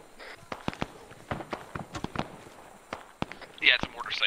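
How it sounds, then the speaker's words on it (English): Distant mortar rounds from an enemy mortar site in an Arma 3 Vietnam War battle, scattered dull thumps and cracks spaced irregularly, with a voice talking over them. "Yeah, it's a mortar site. They're firing."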